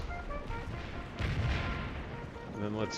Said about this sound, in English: Get out of the way of the cannons.